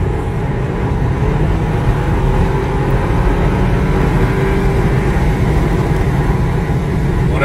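BMW 328i Limousine engine droning steadily as the driver presses the gas on a road, a dense low rumble with road noise heard from inside the cabin, no voices over it.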